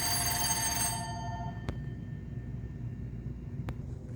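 A telephone rings loudly at the start, and the ring fades out after about a second. A low background hum continues, broken by two sharp clicks.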